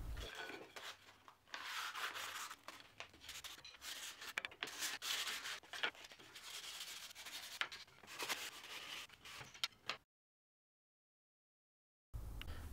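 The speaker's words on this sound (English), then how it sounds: "I took some sandpaper and distressed the edges of those pieces" Sandpaper is rubbed back and forth to distress the edges of wooden pieces, giving quiet, rapid scratchy strokes in uneven bursts, then a brief silence before the rubbing resumes.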